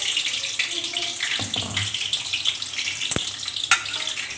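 Water splashes and pours into a container, with a couple of sharp knocks as turmeric roots drop in to soak.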